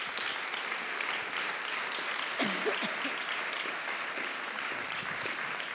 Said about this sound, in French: on peut leur faire un petit tonnerre d'applaudissements